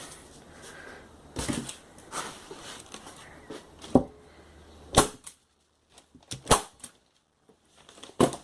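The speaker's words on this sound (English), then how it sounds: "just go and staple down your form" Sharp staple-gun snaps fastening a craft-paper form down onto wood for a paper mache train tunnel, a handful of loud, close, irregular clacks spread over several seconds with quiet gaps between.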